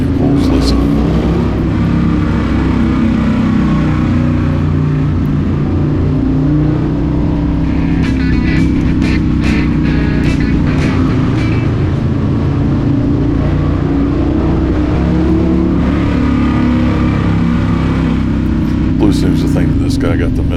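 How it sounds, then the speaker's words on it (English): A car engine revs hard through a tunnel in a continuous loud, booming drone with rising and falling pulls, heard from inside the car. "in the tunnels I'm just having a little bit of fun doing some aggressive engine pulls"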